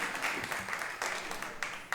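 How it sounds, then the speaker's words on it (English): An audience applauds young performers at an event, giving steady, fairly dense clapping at moderate distance that continues throughout, with a few sharper individual claps near the end. "Y'all keep clapping for the little queens"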